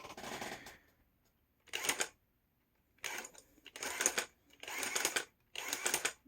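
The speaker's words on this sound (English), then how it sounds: "It's a turn me on, turn me off machine" A homemade useless box, a turn-me-on-turn-me-off machine, runs in short mechanical bursts of whirring and clacking, several separate spurts broken by quiet gaps, close and alone.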